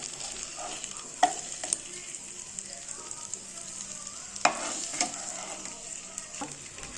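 Eggs frying in a pan, a soft continuous sizzle close by with a couple of sharper clacks from a spatula, no voices.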